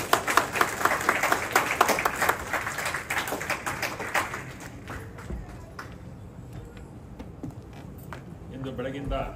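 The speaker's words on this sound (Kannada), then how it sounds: "ಚಪ್ಪಾಳೆ." Applause from the audience at a closing ceremony of a Kannada cultural foundation event crackles densely for the first few seconds, then thins into scattered claps beneath a speaking voice.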